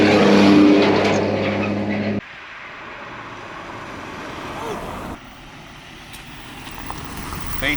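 A naturally aspirated 1.3 Toyota Starlet EP91 pulls hard from inside the car on a 0 to 60 run, its loud engine roar cutting off abruptly at a gear change, then continuing as a lower, quieter drone.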